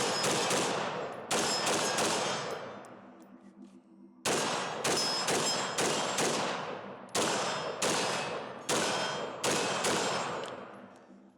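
Rapid bursts of gunfire from a 13.8-inch pin and weld rifle, loud close shots fired in quick strings, each sharp report leaving a ringing echo tail, with short gaps between volleys.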